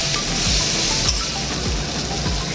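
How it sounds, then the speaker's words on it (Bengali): Cut eggplant and potato are stir-fried in a pan for a Bengali fish curry, giving a close, steady sizzle of hot oil broken by soft, regular scraping stirs. "এবার এইগুলোকে সুন্দর করে আমি নেড়ে চুড়ে নিয়ে একটু ফ্রাই করে নেব।"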